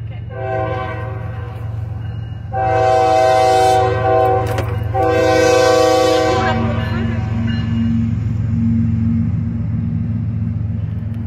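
CSX 3036 freight train sounding a loud multi-note horn in two long blasts near the track, with a steady rumble of the rolling train underneath and brief talk nearby.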